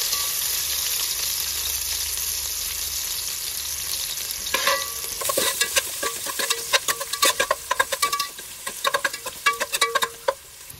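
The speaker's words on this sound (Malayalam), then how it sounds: "അങ്ങനെ ഓയില് ചൂടായി വന്നിട്ടുണ്ട്. അതിലേക്ക് 1 മീഡിയം സവോള കട്ട് ചെയ്തത്, ചെറുതായി അരിഞ്ഞത് ഇട്ട് കൊടുക്കുന്നു." One medium onion, finely chopped, fries in hot oil for ghee rice. A steady hiss runs throughout, then a spatula stirs with rapid, irregular scraping clatters over the continuing sizzle, close-up.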